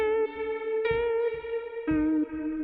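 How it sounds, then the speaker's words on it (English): Sustained tonal notes processed through a reverb plugin with the lag control turned high, so the reverb tail comes in late behind each note, a clean close sound with steady harmonics and no voices. "As you can hear, the reverb is coming after instead of simultaneously."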